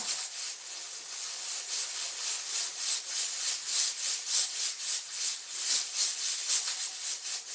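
A pressure canner processing carrots huffs rhythmically: soft, breathy bursts of escaping steam pulse about twice a second in a steady, continuous pattern, fairly quiet and close.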